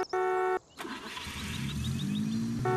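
A Moskvitch 407 car engine in Farming Simulator 19 cranks and turns over, then settles into a steady idle, with an electronic tone sounding at the start and end.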